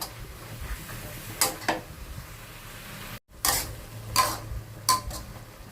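Napa cabbage being stir-fried in a pan, heard as a few scattered scraping, tossing clatters of spatula against metal over a soft background hiss, with a brief dropout in the middle.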